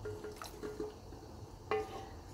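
Water trickling and dripping onto chicken in a cooking pot, a soft splashing pour with a few brighter drips and one sharper clink near the end, faint and close.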